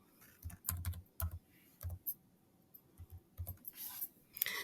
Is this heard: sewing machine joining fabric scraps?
no